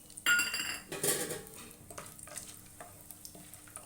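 Whole cinnamon, cloves, cardamom and star anise drop into hot oil with a sharp burst of sizzle and a clink of utensils, then stirring scrapes and a softer crackle follow.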